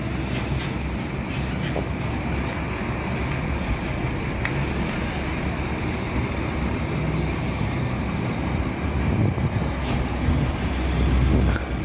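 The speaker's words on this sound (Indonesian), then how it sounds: "Kumala Jaya Indah take off dari parkir wisata Sunan Bonang Tuban" Kumala Jaya Indah tour bus pulling out of the Sunan Bonang tourist parking area in Tuban: a loud, steady, low engine rumble with broad noise that holds throughout and swells slightly near the end.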